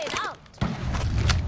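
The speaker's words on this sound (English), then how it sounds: "Thermite grenade out." An Apex Legends thermite grenade is thrown on Kings Canyon: a sudden thump and burst under steady in-game background noise, with electronic game chatter and a swooping tone just before.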